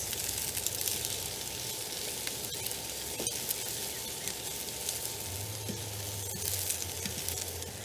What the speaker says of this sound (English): we're hearing some sizzling over here